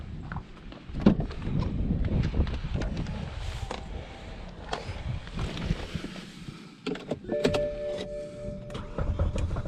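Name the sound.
car engine starting, possible rod knock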